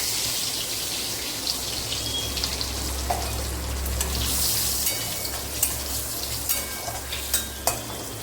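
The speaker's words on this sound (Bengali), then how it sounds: "ফোড়নে আমি দেবো শুকনো লঙ্কা আর কালো জিরে।" Dried red chilli and black cumin tempering sizzle steadily in hot oil in a home kitchen, a continuous close frying crackle with scattered sharper pops and a faint low hum beneath, no voices.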